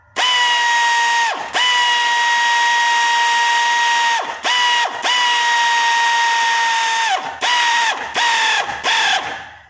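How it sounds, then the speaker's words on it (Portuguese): A pneumatic ratchet wrench tightens a suspension bushing on a Hyundai Santa Fe 3.3, its loud, steady high whine running in several bursts separated by brief pauses, with quick stutters near the end. "A pneumática, catraca, que é uma boa ferramenta, que depende do local para você soltar ou apertar a bucha."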